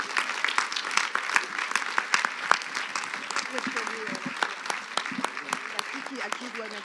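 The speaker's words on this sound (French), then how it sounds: "je vous demande d'applaudir Laurent Vimont." An audience at the closing ceremony of a women leaders' event applauds with many crisp, sharp claps throughout, while voices talk over the clapping.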